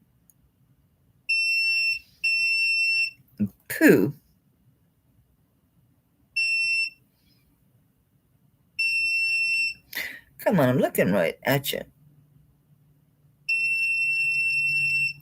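Repeated bursts of high, steady electronic beeping from a metal tester used on sterling silver, each lasting about a second, come and go between short spoken remarks and a brief clatter.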